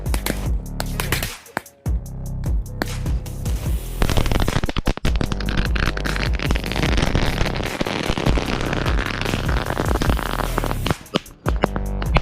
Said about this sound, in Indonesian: kita nyalakan eksperimen petasan di dalam toples